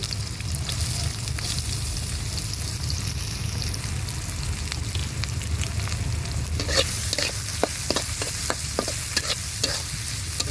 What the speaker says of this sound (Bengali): তেলের উপর দিয়ে দিলাম গরম মশলা পেঁয়াজ কুচি পেঁয়াজ কুচি